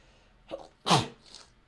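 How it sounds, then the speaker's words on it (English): A single forceful sneeze, close and loud, preceded by a brief sharp inhale. "That was the most aggressive sneeze ever."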